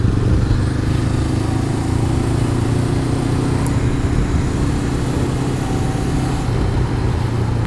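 A motorcycle engine drones steadily at close range, a constant mechanical rumble with no talking; a Honda CB500X under engine braking.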